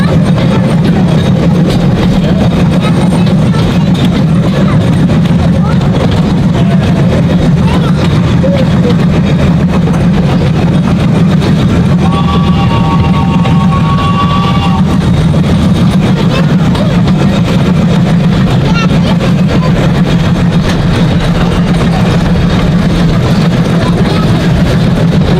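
A small zoo train's engine drones steadily and loud throughout as it circles the Memphis Zoo children's zoo, with a brief tonal whistle partway through and faint talking mixed in.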